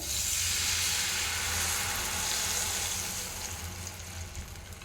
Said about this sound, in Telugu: ఆ చింతపండు వాటర్ని ఇందులో వేసేసుకోవాలి